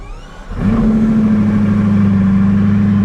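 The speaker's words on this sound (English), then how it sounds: "And then, engine start." A Bugatti Divo engine starts at about half a second, catching with a sudden jump in level and then settling into a loud, steady, deep idle hum that holds for the rest of the clip.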